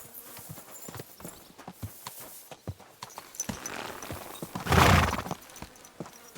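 Horse hooves clip-clop steadily in Kingdom Come: Deliverance 2, a run of moderate, fairly close footfalls with a louder, busier burst of movement near the end.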